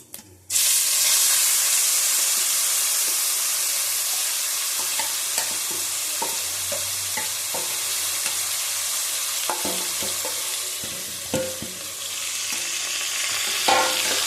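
Onion fries in hot oil with nigella seeds and a bay leaf, a loud steady sizzle that bursts in abruptly and carries on close-up, broken by occasional stirring scrapes and clicks.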